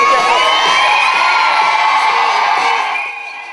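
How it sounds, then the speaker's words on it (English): Outdoor crowd in Ashington cheering and shouting as the Olympic torch relay passes, loud whoops and children's voices in a dense roar that fades slightly at the end. "everybody was waving, cheering."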